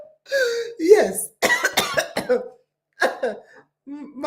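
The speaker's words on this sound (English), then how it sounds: "My enemy is coughing." A person coughs several times in short bursts, near and moderately loud, with a few brief pauses between the clustered coughs and some throat sounds mixed in.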